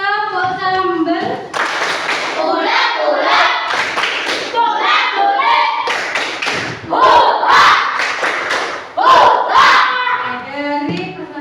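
Children in a classroom perform the tepuk sambal clapping routine, rhythmic group claps and thumps interleaved with loud chanting voices in a lively, crowded room.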